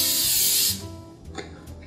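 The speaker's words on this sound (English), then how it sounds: "I'm gonna spray it lightly with some pan spray," A short, close hissing burst of olive oil cooking spray onto a pan for under a second, followed by faint clatter and quiet room sound.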